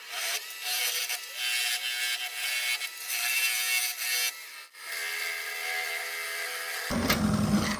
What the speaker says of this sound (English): I'm gonna go ahead and cut this tailstock